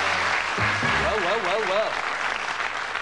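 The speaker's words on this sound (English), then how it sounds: "Give them a nice round of applause." A studio audience at a darts quiz show applauds steadily, with a presenter's voice speaking briefly over the clapping early on.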